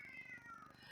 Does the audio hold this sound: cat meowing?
yes